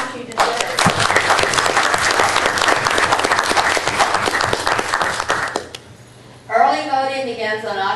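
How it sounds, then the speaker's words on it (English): An audience at a League of Women Voters general election forum breaks into loud, sustained applause for over five seconds, then it stops and a voice begins speaking. "give her the applause she deserves"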